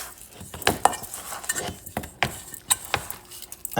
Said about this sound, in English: Then I'm going to mix it all nicely.